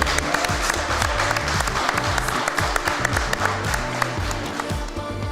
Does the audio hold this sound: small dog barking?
no